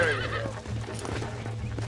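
A horse neighing in the video game Red Dead Redemption: one loud, close whinny whose pitch wavers and falls, with clip-clop hoofbeats and movement beneath it.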